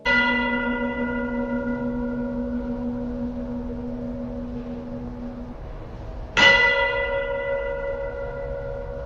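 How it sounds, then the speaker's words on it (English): A church bell rings out and its tone slowly decays, then a second loud strike sounds near the end, leaving a rich humming overtone. "the church bells chiming"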